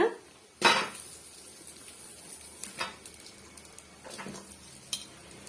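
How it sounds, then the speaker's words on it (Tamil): Chopped onions tip into a hot pan for a drumstick-leaf chutney, landing with a sharp clatter and then a few scattered scrapes and knocks of a spoon stirring against the metal pan, fairly close and fairly quiet, with no talk. "இப்போ இந்த ஸ்டேஜில் நம்ம அரிஞ்சு வச்சிருக்க வெங்காயம் வந்து சேர்த்துக்கலாங்க"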